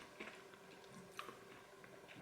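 Crunchy pork scratchings being chewed close up, a soft, quiet stream of crackly bites and mouth sounds with a few sharper crunches, no talking.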